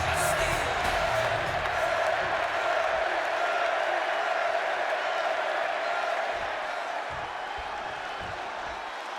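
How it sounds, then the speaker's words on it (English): Arena crowd in a WWE 2K26 wrestling game set in Chicago, a dense roar of cheering and applause that starts loud and slowly fades, with a commentator's voice over it. "just listen to this crowd here in Chicago"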